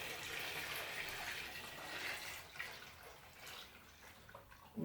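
Pumpkin mash liquid is poured off from a pot, giving a steady, faint splashing, rushing pour that tapers slightly toward the end.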